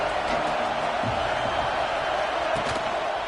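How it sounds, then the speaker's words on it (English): Steady roar of a football stadium crowd early in a game, a dense continuous wash of many voices with a few louder shouts rising out of it. "This crowd bringing the energy and noise early."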